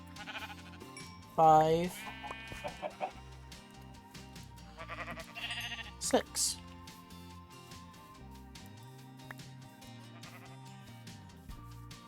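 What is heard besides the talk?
sheep bleating in Minecraft modpack Gregtech New Horizons, video game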